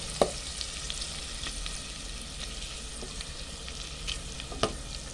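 Garlic and onion sautéing in oil, a steady close sizzle with a few scattered light spatula clicks and scrapes.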